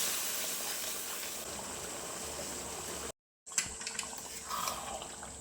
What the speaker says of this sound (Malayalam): ആ പോർക്ക് വേവിച്ചതിൻ്റെ സോപ്പ് ആദ്യം ഒഴിച്ചു കൊടുത്തിട്ട് ഇത് നല്ലതുപോലെ ഒന്ന് മിക്സ് ചെയ്ത് ഒന്ന് കുറുക്കിയെടുക്കാം